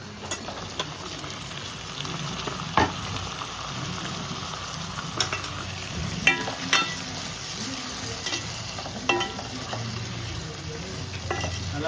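Tomatoes fry in a pan for vaval fish gravy, giving a continuous sizzle broken by occasional scraping knocks of stirring, close and steady throughout.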